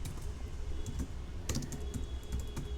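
Rapid, light keystrokes on a computer keyboard while entering a command, soft and close, in irregular bursts with short pauses.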